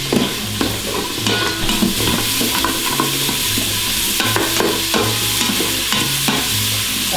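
Onions and garlic sauté in an Instant Pot, a loud, steady sizzle layered with repeated clatters and scrapes of stirring against the metal pot.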